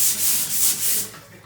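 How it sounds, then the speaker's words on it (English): Close, steady sanding strokes scrubbing across a wallpapered bathroom wall, with several rhythmic back-and-forth passes that rise and fall before tapering off, and no voices. "We remedy this problem with simply sanding down the wall."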